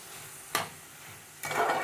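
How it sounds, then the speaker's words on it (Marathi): Onion sautéing in a pan, a soft steady sizzle broken by two short bursts of stirring and scraping, close and fairly quiet, no talking. "कांदा आपला चांगला परतून घ्यायचा आहे."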